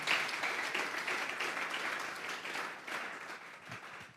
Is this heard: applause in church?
yes